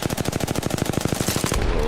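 Rapid automatic gunfire from an Apex Legends match, a fast regular burst of close, loud shots for about a second and a half, then breaking off into a steady background rumble.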